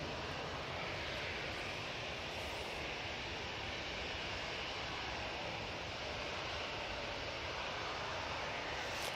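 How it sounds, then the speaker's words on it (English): Ryanair jet landing at Manchester Airport, heard as a constant, dense broadband engine roar that stays loud and even throughout, without talk. "We have a Ryanair, just about to touch down"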